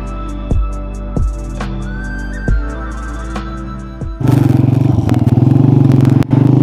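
A motorcycle at Basu Lake facing Hunza starts up for the day's ride: a few sharp clattering bursts give way to a loud, steady close-up engine rumble with a brief dip near the end.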